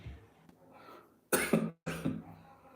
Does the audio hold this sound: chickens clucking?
no